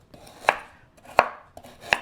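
Eggplant being chopped into chunks on a cutting board, three sharp knife strikes at a steady, unhurried pace, close and clear with no talk.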